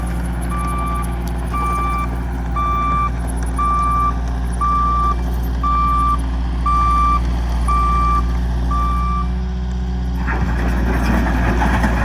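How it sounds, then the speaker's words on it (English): A dump truck delivering a load of fill sounds its reversing alarm, a steady run of evenly spaced beeps over a low idling diesel rumble, close by, before the beeping stops and the engine noise shifts near the end. "Here comes my first load of fill."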